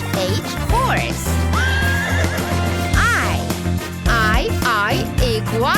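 A horse neighs and whinnies several times in a children's animal alphabet song, the calls loud and rising over a steady musical backing with faint hoof clip-clops.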